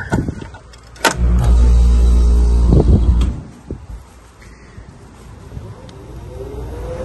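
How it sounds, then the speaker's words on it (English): A Carrier package HVAC unit's blower motor starts with a thump and runs as a steady loud whir for about two seconds, then winds down into quieter background noise. "The blower came on."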